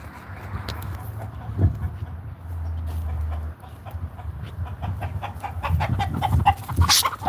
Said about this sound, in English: That's what the chickens were freaking out on.